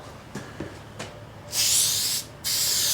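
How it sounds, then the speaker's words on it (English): Two long bursts of aerosol adhesive spray hiss, close and loud, the second following a short pause, after a few faint taps and rustles, while working on a Subaru engine. "We're just gonna spritz in there and just kind of push it up"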